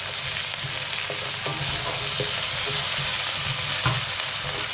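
Callaloo and cabbage frying in a pot for a vegan meal, a loud continuous close sizzle broken by a few clacks and scrapes of a spoon stirring, no voices.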